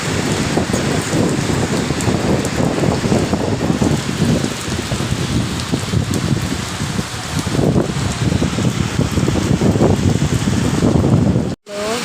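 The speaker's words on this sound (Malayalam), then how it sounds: "കണ്ടോ, നല്ല മഴയാണ്" Heavy rain pours steadily in Dubai, a loud, dense hiss of drops pattering on surfaces that continues without a break, cutting out briefly just before the end.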